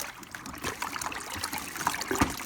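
Water is stirred in a container while mixing a turkey brine, giving close, uneven sloshing and trickling with a few sharper splashes toward the end.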